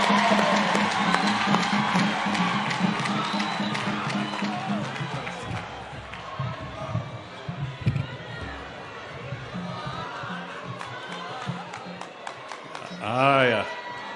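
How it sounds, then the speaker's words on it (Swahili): A congregation in a Kenyan church applauds and cheers at a political gathering, a dense wash of clapping and crowd noise that stays loud throughout and fades slightly toward the end, with a voice rising briefly near the close. "Tupigeni makofi."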